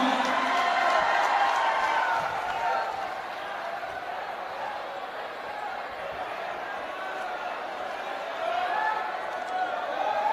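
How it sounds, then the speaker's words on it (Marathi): Crowd at a Congress political rally and road show in Nagpur, Maharashtra, applauding in a steady wash of clapping and cheering that swells early, dips in the middle and rises again toward the end. "एक जोरदार टाळ्यांचा कडकडाट स्वागत समारंभ सुरू आहे."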